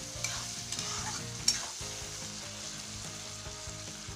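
Masala khichdi with potato and cauliflower fries in a pan under a gentle, steady sizzle, punctuated by light clinks and scrapes of stirring, up close and without speech.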